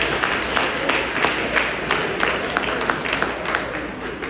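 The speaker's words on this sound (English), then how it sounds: "Give yourselves a round of applause," An outdoor afternoon crowd at a Malcolm X birthday celebration at the Shabazz Center claps steadily, a dense wash of many hands with scattered sharper claps, fairly near and continuous throughout.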